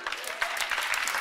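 A sermon audience breaks into brief applause: a short, fairly soft burst of many hands clapping at once, steady throughout with no distinct speech on top.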